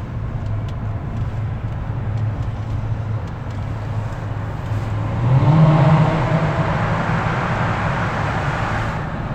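A car driving along a street, its engine droning steadily and then swelling briefly as it accelerates before settling back to a constant hum; fairly close and loud, with no talk.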